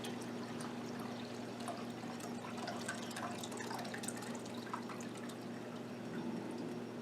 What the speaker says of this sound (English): I can't pour this out into a smaller jar without spilling it, so I just pour it into a big bowl like this